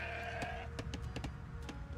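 Sheep bleating in the Age of Empires II video game, several short repeated bleats over a steady game background hum, fairly close and without speech.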